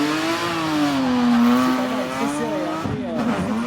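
Stunt cars practicing on a race track at the French Formula 1 Grand Prix, engines droning steadily with rising and falling pitch and a brief tire squeal, fairly close, with faint voices underneath.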